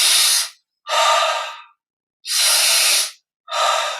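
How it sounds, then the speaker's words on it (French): Slow, deep breaths during a guided Yogoda energization meditation, four long airy inhales and exhales close to the listener, each separated by a short silence. "Chaque fois que j'inspire"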